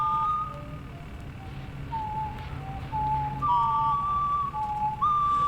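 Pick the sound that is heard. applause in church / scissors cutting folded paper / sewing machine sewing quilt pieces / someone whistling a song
someone whistling a song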